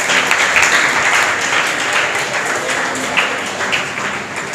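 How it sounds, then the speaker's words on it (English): Sustained audience applause at a school award ceremony for an English academy confidence-building program, a dense steady wash of many hands clapping loudly throughout with no pauses. "Keep clapping."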